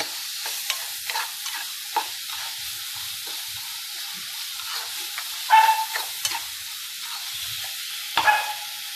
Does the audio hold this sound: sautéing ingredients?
yes